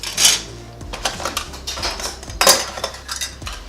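Clear plastic forks and spoons rattle and clack against each other while being sorted in a kitchen cabinet, a busy run of light, close clicks and taps with no talk.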